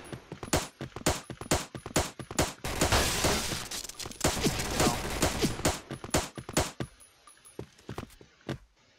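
Rapid pistol and gunfire shots in a Point Blank online shooter match, a dense run of sharp close cracks with a burst of heavy firing in the middle and scattered shots continuing to the end.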